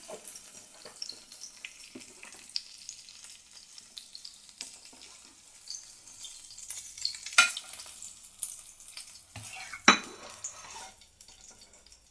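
Panch phoron spices crackle and sizzle softly in hot oil in a pan after fish has been fried for a Bengali macher jhal, with occasional stirring clinks over a quiet background.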